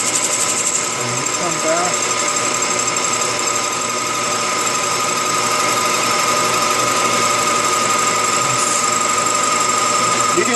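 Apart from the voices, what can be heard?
lathe cutter turning stainless steel for ACME threads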